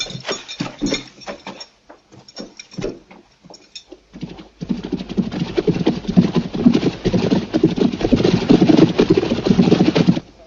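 Horses are led away on foot in a village scene set in the era of Sultan Agung, their hooves clip-clopping in a steady irregular patter that grows denser and louder, with no talk over it.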